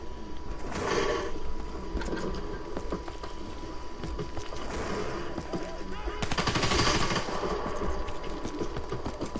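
Rapid bursts of automatic gunfire in a video game, fairly loud and close, with louder clusters near the start and after the middle, over a continuous game background.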